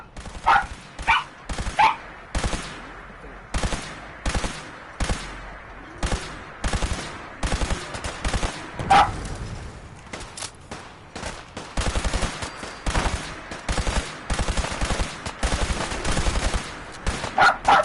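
Defenders open fire in Fallout 4: Far Harbor, loud gunshots cracking in bursts and irregular volleys, some single shots and some rapid clusters, close and forceful with brief gaps between.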